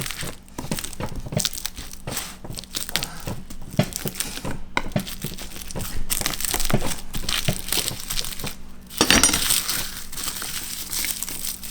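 Garlic clove, cut halfway to expose the inside, smashed to loosen it from its skin: repeated crunching, crushing knocks with crinkly papery crackle, close and fairly steady over several seconds, one harder burst near the end.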